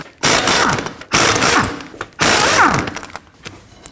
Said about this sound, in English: we can remove the lug nuts with a 21mm